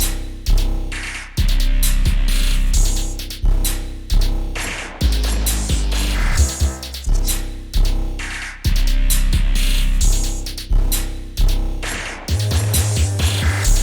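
Programmed dark glitchy trap beat with a booming 808 bass, ticking hi-hats, gunshot hits and assorted percussion in a steady looping pattern, played alone and loud, with a stuttering roll near the end.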